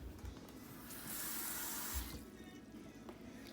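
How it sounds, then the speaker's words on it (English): Water gushes steadily from a kitchen tap while making homemade ramen, a close, continuous splashing hiss that swells louder in the middle and then eases back. "We gotta add some water."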